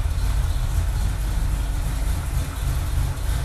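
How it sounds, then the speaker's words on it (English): Carbureted car engine idling with a steady, low rumbling drone that runs continuously without talk. "The motor sounds really good. I love the ping in the header."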